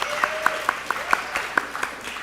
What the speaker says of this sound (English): There's an applause.